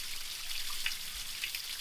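Creek water trickles and babbles steadily at a campground in Missouri, a soft continuous hiss with faint dripping textures, fairly quiet and without voices.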